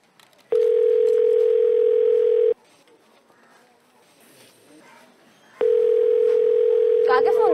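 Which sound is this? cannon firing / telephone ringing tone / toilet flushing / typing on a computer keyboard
telephone ringing tone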